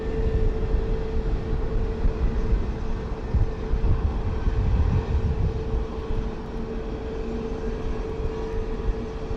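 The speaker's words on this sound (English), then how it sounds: "this is going to be a Boeing 737 MAX 8. About to hit the runway" Boeing 737 MAX 8 landing at San Juan's Luis Muñoz Marín airport, a steady broad jet roar with a low rumble that swells midway and then eases off.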